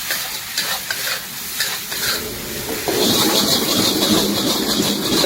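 Chow mein noodles with green chili sauce and tomato sauce being stirred and tossed in a hot pan for Kolkata street-style chowmein, with steady close sizzling and scraping that grows louder midway, no talk.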